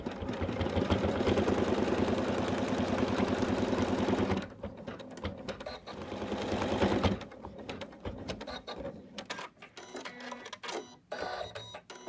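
An embroidery machine runs steadily while stitching fabric onto an in-the-hoop Santa bib, a loud, continuous rhythmic whirring and needle chatter that breaks into choppier, stuttering stitching partway through.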